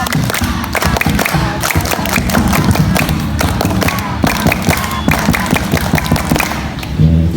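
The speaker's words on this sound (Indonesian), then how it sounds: "2 kali tepuk pramuka." Primary school students at a Scout Day ceremony perform the rhythmic scout clap together, a dense run of sharp, loud claps and thumps in repeated patterns, with crowd voices mixed in throughout.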